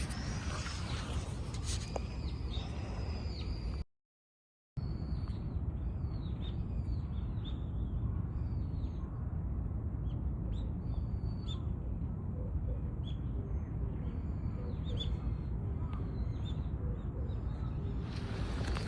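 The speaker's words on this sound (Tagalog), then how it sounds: "May mga ibon. Nature." Birds call repeatedly outdoors in a park in Japan, with short chirping notes rising over steady wind or ambient rumble, moderately distant, with a brief dropout early on.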